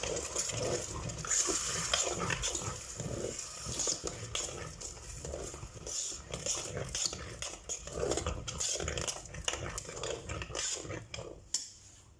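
A spoon stirs yogurt sauce in a bowl, making repeated close scraping and clinking strokes in an uneven rhythm that soften toward the end.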